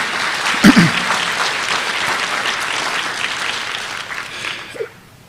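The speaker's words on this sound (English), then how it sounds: "please give them a round of applause for the great work they do" An audience at a county sports awards ceremony claps steadily for several seconds, a dense crowd applause that fades out toward the end.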